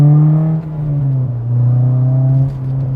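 Honda S2000 fitted with an Invidia Q300 exhaust, heard from inside the cabin as a loud, steady, droning engine note that dips briefly and swells back up as the revs rise and settle, with no talking.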